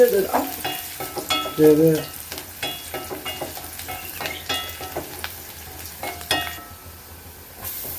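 Masala with coconut paste, green chilli and turmeric stirred in a frying pan, irregular spoon scrapes and knocks over a low sizzle, some strokes sharp and close, easing off near the end.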